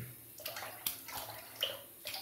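Water splashes on skin during a wet shave, several soft splashes and trickles in a quiet room.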